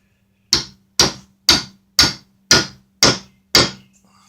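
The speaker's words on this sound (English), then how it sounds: "Grab your hammer again." Seven evenly spaced, sharp hammer blows on a metal tool while making a VW triple-square tool set in sockets, each strike crisp and close with a short ring, no talking.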